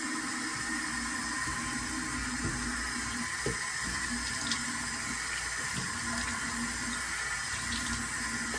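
Water runs steadily from a bathroom tap during face washing, a constant soft hiss and splash at low level with faint small clinks now and then, and no voices.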